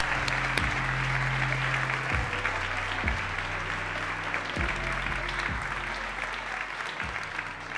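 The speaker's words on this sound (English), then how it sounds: "A huge applause for Marcos, please." A conference audience at a corporate launch event claps in a sustained round of applause, full and even, with a low hum of the room running underneath.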